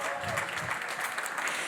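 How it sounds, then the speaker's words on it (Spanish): Audience applause at an education event, a dense wash of many hands clapping at once, steady and sustained through the short clip with a voice faintly over it. "Vamos a brindarle un aplauso también a Cristina"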